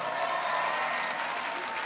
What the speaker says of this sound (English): let us give a big round of applause for our contestants.